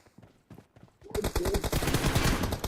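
Sustained automatic gunfire from a BGMI mobile battle royale team deathmatch erupts after a quiet start with faint footsteps, then rattles loudly and continuously to the end.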